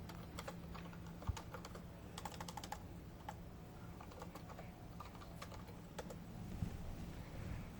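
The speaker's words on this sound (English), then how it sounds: "So I could type in" Typing on a computer keyboard during a business data search demo, quick irregular key clicks in scattered bursts over a low room hum, fairly faint and distant.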